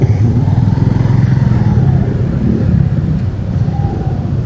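A Suzuki Shogun 125 SP motorcycle rides along a road with a steady low engine drone and wind rush on the microphone, loud and continuous without talking.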